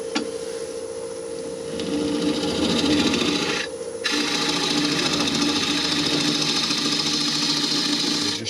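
A lathe tool cuts into a spinning elm and walnut bowl with a continuous close scraping hiss over the motor's steady hum, breaking off briefly before the cut resumes at an even level.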